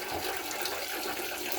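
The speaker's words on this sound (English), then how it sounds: "fill the pot with hot water" Hot water rushes steadily into a pot for jam making, a continuous close splashing fill with no pauses, loud and alone without talk.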